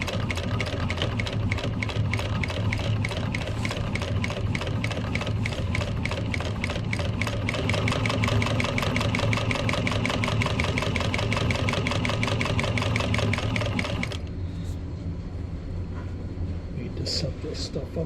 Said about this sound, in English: Alright, I'm stitching up the burlap for the